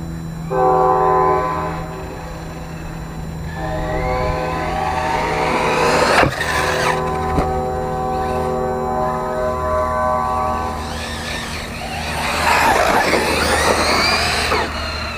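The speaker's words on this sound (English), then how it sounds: "Quite a train noise, huh?" Arrma Typhon RC car motor driving over grass, letting out a loud, sustained train-like drone and whine with shifting pitch, swelling and easing as it runs for about fifteen seconds with no talk.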